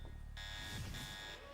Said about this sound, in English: I seem to have set off some kind of alarm. It's probably all the shooting.